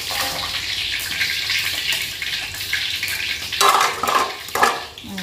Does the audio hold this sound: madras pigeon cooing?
no